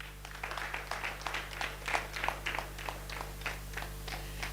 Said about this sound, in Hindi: जीवन लगी आउ थरे ताली दो।